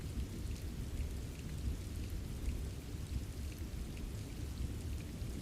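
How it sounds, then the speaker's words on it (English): Steady rain falling on library windows, a dense continuous patter with a low rumbling wash underneath, even and unbroken throughout with no voices. "The rain continued to fall on the windows of Blackthorn Library, soft, steady, and patient"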